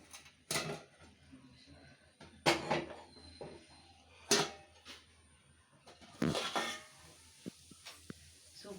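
A heavy stone dosa griddle is lifted off a pot of cooking rice, giving a few sharp clanks and scrapes of stone on metal spaced over several seconds, close by, with no talk.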